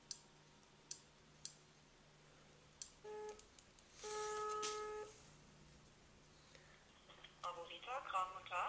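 A telephone call being placed, with scattered clicks, a few dialing tones and a sustained ringback tone around the middle, followed by faint voice-like sounds at the end.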